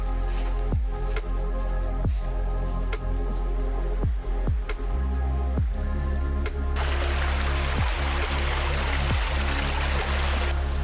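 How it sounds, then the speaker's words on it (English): A river on the Brown Trail in Stokes State Park flows with a steady rushing wash, overlaid by regular soft knocking or footstep-like thumps, turning into a broader hiss in the last few seconds. "This river, awesome."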